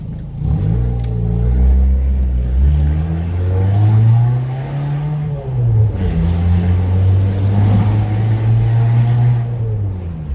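A Fiat 500 Pop's loud, raw straight-piped exhaust revs up and down several times, rising and falling in pitch, close and unaccompanied by speech.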